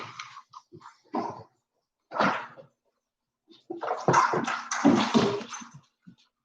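A dog gives irregular bursts of barking and whining, separated by short silences, fairly loud and without anyone talking.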